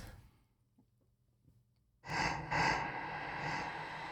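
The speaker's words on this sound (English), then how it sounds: "Then we have a breath sound." A breath sound sample in a song production mix: a quiet, sparse stretch followed by a loud, close inhaled breath with a reverberant, airy tail.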